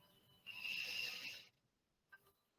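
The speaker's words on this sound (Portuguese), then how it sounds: "E uma última respiração." One long, soft, airy breath in during a guided breathing exercise, lasting about a second in an otherwise hushed setting, followed by a faint brief exhale.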